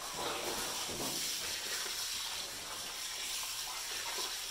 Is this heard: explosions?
no